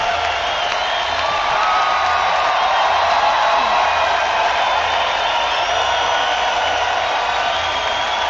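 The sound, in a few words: audience applause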